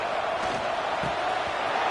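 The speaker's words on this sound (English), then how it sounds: "It's early, but this crowd is fired up. Listen to this noise here." Fired-up football crowd at an NCAA game involving the Badgers, a steady broad roar from a packed stadium filling the whole stretch without a break, loud and continuous with no clear individual voices standing out.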